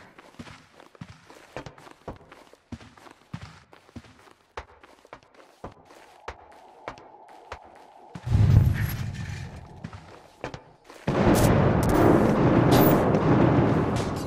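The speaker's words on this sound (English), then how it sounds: "Were those gunshots?" Gunfire in the stealth shooter Hitman: Absolution, in the Rosewood level: sharp bursts and a sustained loud roar of shots and blasts that break in after a run of quiet footsteps, one short burst and then a long heavy volley.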